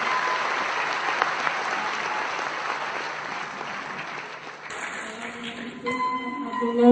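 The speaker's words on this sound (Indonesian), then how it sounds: "Berikan tepuk tangan buat Bu hamba" Audience applause, a loud, even round of clapping sustained for several seconds that gradually fades as music and a voice rise at the end.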